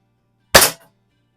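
A single sharp crack from a .177 air rifle pellet shot at small metal target paddles in a garage, loud and close, with a short decay and no talk.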